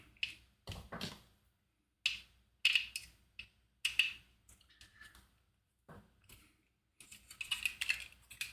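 Close, dry clicks and ticks in short bursts with pauses as a small screw is driven and tightened into a metal part of a Fanhome Optimus Prime model kit, no voices.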